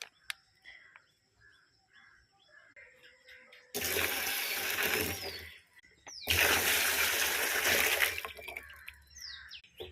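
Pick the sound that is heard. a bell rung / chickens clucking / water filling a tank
water filling a tank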